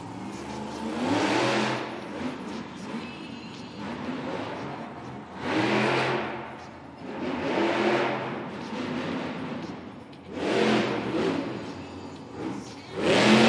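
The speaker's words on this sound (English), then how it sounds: "Nice wheelie right there from Zombie." Zombie monster truck revving hard during a wheelie at an indoor arena event, engine surging in repeated loud bursts about every four seconds over a continuous crowd and arena roar.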